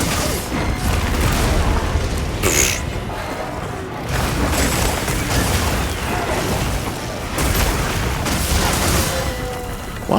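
Explosions from a monster in the video game Monster Hunter Wilds: loud, dense booming blasts with crashing debris in repeated waves and brief lulls between them.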